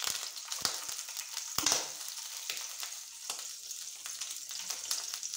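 Mustard seeds, cumin, green chillies and dried chillies sizzle in hot oil as a tempering for perugu pachadi. The sizzle is steady and close, with sharp pops and crackles scattered throughout.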